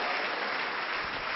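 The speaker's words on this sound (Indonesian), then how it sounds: "Beri tepuk tangan untuk Tuhan" A church congregation at a Sunday afternoon service gives a short burst of steady, dense applause that fills the room, with no voices on top.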